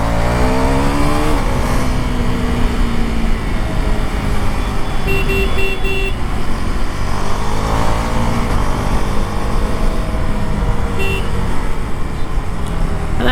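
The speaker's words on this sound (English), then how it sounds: "The exhaust note on this bike is so enjoyable" Husqvarna Svartpilen 401 scrambler motorcycle revving hard while riding, a loud continuous exhaust note with rising and falling engine pitch close up, wind noise throughout.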